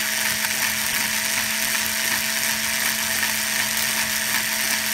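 A drill slowly bores a small hole into the handle of a converted M5-1 bayonet trench knife, giving a steady, loud mechanical whir with a grinding hum that runs unbroken and alone throughout.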